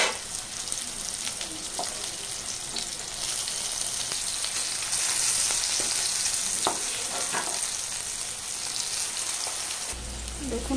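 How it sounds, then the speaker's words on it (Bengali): Teasel gourd (kakrol) pieces coated in salt and turmeric fry in a pan with a steady, even sizzle, broken now and then by faint clicks of stirring. "কাঁকরোলগুলো ভেজে নেব।"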